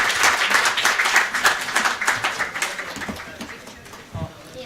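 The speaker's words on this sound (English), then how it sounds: "Let's give them a big round of applause" A conference audience at a regional health summit applauds its panelists, a brisk round of clapping that gradually tapers off, with a voice speaking over it.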